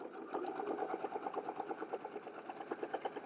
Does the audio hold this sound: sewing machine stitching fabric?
yes